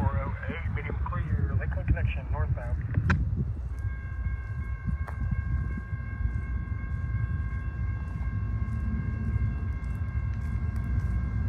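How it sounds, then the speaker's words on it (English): A CSX freight train passes with a steady rumble and rolling noise, and several long high steady tones ring out partway through, heard without talk. "let's see if any CSX trains will make an appearance here."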